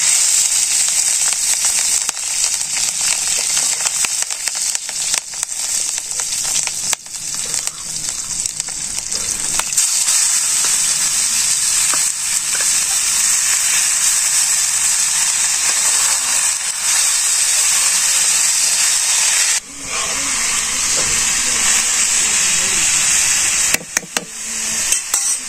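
Chopped green chilies hitting hot oil with mixed cumin and black cumin seeds in a Bangladeshi village kitchen, a loud steady hiss and crackle of frying sustained throughout, with occasional knocks from stirring.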